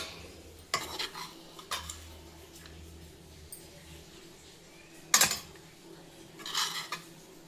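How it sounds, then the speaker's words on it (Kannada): Vangibath gojju being mixed in a frying pan, with a utensil scraping and clinking against the metal in scattered strokes, a few sharper clanks standing out, close and fairly quiet with no talking. "ಈ ಬಾಣಲಿಲೇ ಕಲಿಸ್ಬಿಡ್ತೀನಿ"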